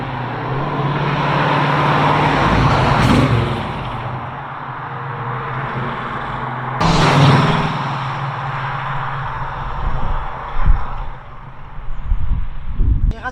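A Chevrolet Camaro SS on the road, its engine humming steadily with two sharp surges as gears are changed, a missed shift, then the car coasting; people talk inside the cabin over the engine.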